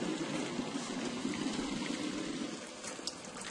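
Boiled water pours from a kettle in a continuous, steady splashing stream, close and moderately loud, with no talking.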